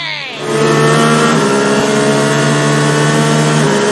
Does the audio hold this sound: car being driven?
yes